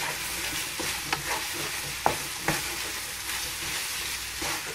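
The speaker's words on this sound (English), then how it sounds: "Cook it thoroughly. Cook the flour." Flour being stirred through sizzling contents of a frying pan while making shepherd's pie, a steady frying hiss with a few soft scrapes and taps of the utensil, close and alone.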